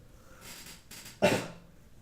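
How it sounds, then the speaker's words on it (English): A single sharp, close cough bursts out after a quiet stretch of faint breathing, then fades quickly. "Excuse me for the coughing."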